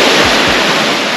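Sea waves at Devgali beach on the Konkan coast, a loud, close, continuous surf roar with a couple of low thuds early on and no talk.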